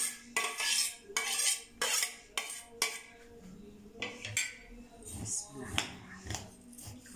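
A spoon clatters against a pot while spices, onion and rice are stirred together, with sharp repeated metallic knocks that give way to softer, uneven scraping.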